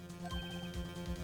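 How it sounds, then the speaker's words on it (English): A phone ringtone in Phoenix Wright: Ace Attorney, heard as a repeating electronic chirping pattern with a steady musical hum underneath, rising and falling in short regular pulses at moderate, fairly quiet level. "I heard a phone ring just now"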